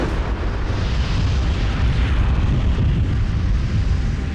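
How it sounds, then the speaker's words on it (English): A natural gas explosion in a power generation building, heard as a loud, sustained rumbling roar with dense low-end energy that holds steady throughout, with no voices present. "The natural gas accumulated to dangerous levels, contacted an ignition source, and exploded."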